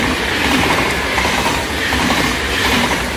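A train rolls past at Maasbracht in the Netherlands in November, loud and close, with a constant roar of wheels on rails and faint clattering throughout.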